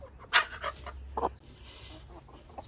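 A young pet chick indoors gives a few short clucks and chirps, close by and fairly soft, with quiet room noise between the calls.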